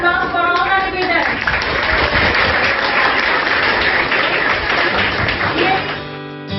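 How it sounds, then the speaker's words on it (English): An audience applauds school debaters from a Class V debate, steady clapping filling the room, with a voice over it near the start and clapping fading toward the end. "Dear audience, please give a big applause for all the debaters."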